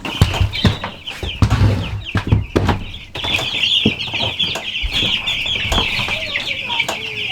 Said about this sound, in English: I'm gonna grab a wagon and we are gonna move some meat birds.